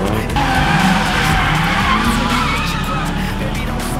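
An all-wheel drive turbo kei car drifts, its tires skidding and squealing loudly over a straining engine for several seconds.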